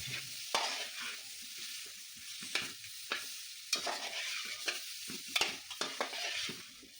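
Cut vada fish pieces stirred into hot, oil-separated masala for a fish curry, with a steady soft sizzle broken by repeated sharp scrapes and clacks of the spoon against the pan, close and moderately loud.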